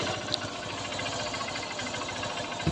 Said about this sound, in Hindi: बाइक को स्टार्ट करते हैं और आपको साउंड दिखाते हैं किस तरीके से इसकी साउंड आई।